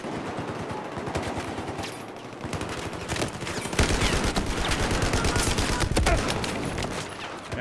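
Sustained gunfire in Battlefield 4 on Operation Locker during team deathmatch, with dense bursts of automatic fire and overlapping shots that grow louder and more continuous midway, loud and close.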